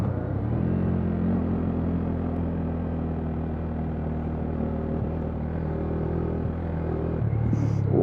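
KTM 390 Duke motorcycle engine while riding, a steady low rumble with wind roar that holds a constant drone for the whole stretch, with no clear talking.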